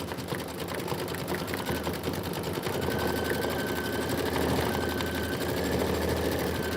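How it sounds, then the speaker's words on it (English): A sewing machine stitches a quilt block, a steady fast mechanical whir with rapid needle ticking, running continuously at close range without talk. "This is 6 minutes of stitching"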